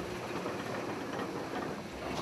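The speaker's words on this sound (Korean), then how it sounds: "클라이네 샤이덱을 떠나며 서서히 열차가 움직이기 시작했다" Steady rumble and rolling clatter from the Jungfrau railway train as it begins moving out of Kleine Scheidegg station in the Swiss Alps, continuous and close, with no voices.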